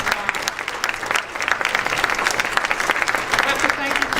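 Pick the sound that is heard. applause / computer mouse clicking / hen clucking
applause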